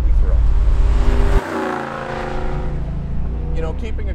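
A 1987 Chevrolet Camaro IROC-Z engine rumbles steadily with exhaust drone while driving, dropping in pitch partway through as it keeps running, with faint voices underneath.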